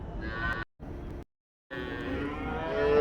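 Cattle at a livestock sale where calves and cows are offered, with continuous lowing and bellowing sounds broken by two short silent gaps, rising louder toward the end.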